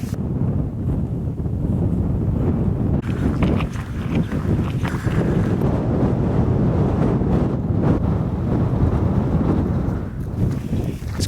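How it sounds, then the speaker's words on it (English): Cold north wind buffets the microphone on an open hilltop at Kinder Scout in the Peak District, a loud, steady roar of gusts lasting the whole stretch with no voices. "Quite an icy bite in the breeze. The wind's coming from the north"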